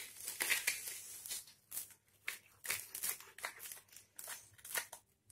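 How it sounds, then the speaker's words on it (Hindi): Knife slicing a crispy sandwich into pieces, with repeated crunchy, crackling cuts in short bursts, close up and quiet, no speech. "सैंडविच को हम ऐसे दोनों पॉइंट को दबा के और काट देंगे।"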